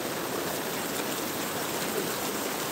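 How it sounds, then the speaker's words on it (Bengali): A stream of flowing water rushes loudly and steadily, a dense, unbroken roar close to the listener that covers the whole stretch without pauses or voices. "জলের এত আওয়াজ"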